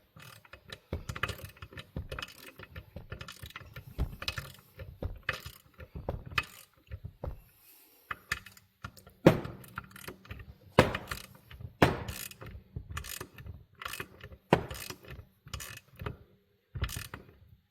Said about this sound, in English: So we'll just torque this down until we get to 48.